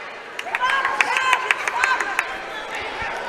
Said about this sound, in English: Crowd slowly but surely filing in here to the Davis Event Center